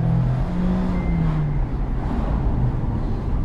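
A 2024 Mazda MX-5 2.0 litre Homura driving with its top down, giving a steady, loud low engine thrum blended with road and wind rush. No one speaks.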